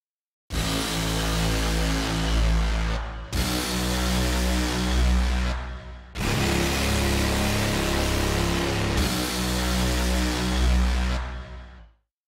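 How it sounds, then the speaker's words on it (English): Layered cinematic brim sounds from the MONUMENT Liquid Steel patch, four long, dense metallic swells with heavy low rumble, each held about three seconds and cut off abruptly, loud and up close with no voices. "I also added another brim sound, which is called Liquid Steel. It has this unique metallic quality to it"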